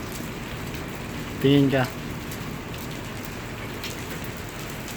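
Hail falling as ice pellets, a steady broadband patter of impacts on surfaces continuing throughout, with a person speaking briefly in the foreground.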